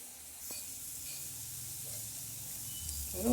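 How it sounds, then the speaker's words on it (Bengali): Spices with turmeric fry in oil in a pan with a faint, steady sizzle and occasional light stirring clicks, heard alone. "দিয়ে একটু মশলাটা ভেজে কষে নেবো"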